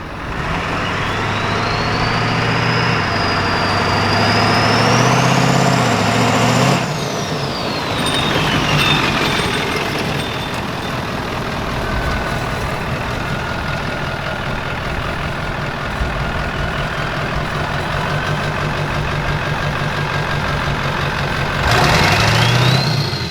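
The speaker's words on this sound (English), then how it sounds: "Bro, all you hear is turbo. You just hear wee, and then you hear the motor whoa" A Ford 7.3 Powerstroke diesel truck with a new downpipe and 5-inch exhaust revs and idles up close. A high turbo whine sweeps up and falls away over the deep diesel rumble, then the engine revs again near the end.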